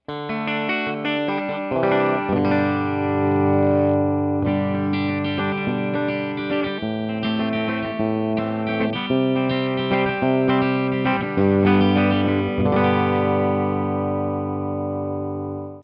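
A clean electric guitar through a Rocknroll Amps Duoplex 2EL84 tube amp, playing sustained chords and notes with a warm, full tone, continuous and fairly loud without talk.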